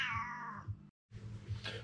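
Cat in a garage giving two drawn-out meows, the first long and wavering, then a short pause before a second cry, fairly close and clear with no talk.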